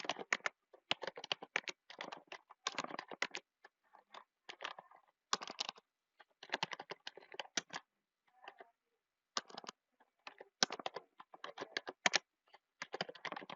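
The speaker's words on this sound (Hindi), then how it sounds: "मैं रैंडमली टाइप कर रहा हूं" Typing on a computer keyboard while entering names into an Excel spreadsheet, with irregular clusters of quiet key clicks broken by short pauses, close and alone.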